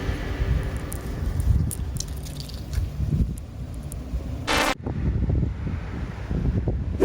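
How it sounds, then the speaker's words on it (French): Gusty wind buffeting the microphone in low rumbling bursts, with a brief sharp crackle partway through. "il y a un petit peu trop de vent pour faire un time-lapse"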